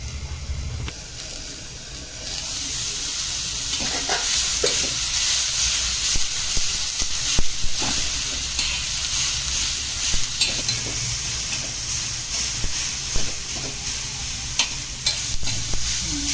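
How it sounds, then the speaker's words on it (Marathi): Tomatoes with a pinch of salt cooking in a pan: a steady sizzle and hiss of frying, with occasional soft stirring scrapes and clicks, close and continuous, with no talking. "टोमॅटो टाकल्यावर त्याच्यावर 1 चिमूटभर आपण असं मीठ टाकूया आणि 1 मिनिटभर ढाकण ठेवून देऊया, म्हणजे टोमॅटो लगेच नरम होईल।"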